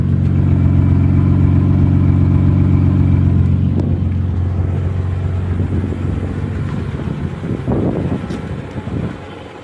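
A 1986 BMW 325 with a 2.7-litre straight-six runs after a hard start, its steady mid-pitched idle droning loudly up close with wind buffeting the microphone, then fading into lighter rustling and handling noises.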